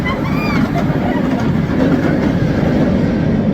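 Nemesis, an inverted roller coaster at Alton Towers, roaring along its track with a loud, continuous rumble and clatter plus faint squeals, close and dominating throughout.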